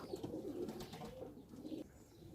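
Pigeons coo in a steady, fairly quiet murmur with no gaps, several birds layered together, while a pair has been let out to fly.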